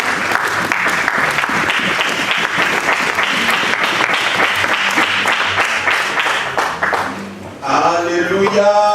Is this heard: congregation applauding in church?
yes